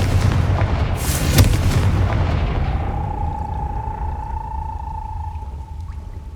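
A Confringo fire blast spell in the Hogwarts Legacy video game bursts loud and sharp, then a booming rumble fades into a thin ringing tone that lingers to the end.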